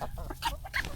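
Roosters and backyard hens cluck in a brief burst, a few short close calls in quick succession with a farmyard murmur underneath.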